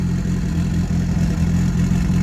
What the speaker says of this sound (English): It's idling worse than what it was.